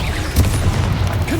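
A Bombarda spell blast in Hogwarts Legacy, a short booming low thump with a rumbling burst, loud and close, amid game ambience.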